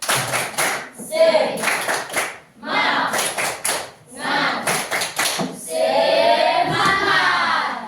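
A classroom group does a rhythmic spirit clap, patterned bursts of hand claps mixed with loud chanting voices, close and energetic throughout.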